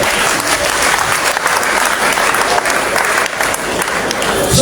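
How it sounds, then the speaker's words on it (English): Audience applause fills a launch event for the Liberia Electricity Corporation's electrification campaign, dense steady clapping from a crowd sustained loudly throughout with faint voices mixed beneath. "So let's give ourselves a very big hand of applause."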